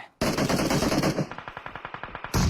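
Loud automatic gunfire from a competitive video game match in a Thai league final, a sustained burst followed by a rapid string of evenly spaced shots, then another loud burst at the end.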